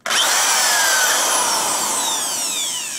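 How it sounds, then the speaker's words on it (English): A variable-speed power drill whines loudly as its bit bores into a rusted, damaged metal screw, a sustained high-pitched grinding run that slowly drops in pitch and tapers off without any speech. "When you're drilling through metal, slower is better."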